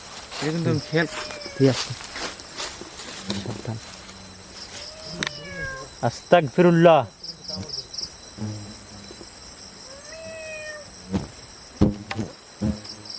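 A cat meows several times beneath a hijol tree, drawn-out rising and falling cries, over a constant high insect buzz with people talking nearby between the calls.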